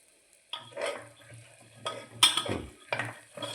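Green pigeon pea curry stirred in a pot, a few distinct bursts of spoon scraping and clinking against the metal with a faint sizzle between strokes, close and otherwise quiet, no talking.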